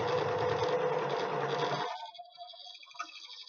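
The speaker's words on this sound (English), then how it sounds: "Your overlocker doesn't have to work too hard to get the fabric under there because it can be quite thick" An overlocker sews thick fabric scraps with a close, rapid buzzing run that stops abruptly about halfway, leaving quiet small handling sounds.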